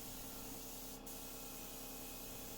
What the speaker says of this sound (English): So it felt good just to spray this primer on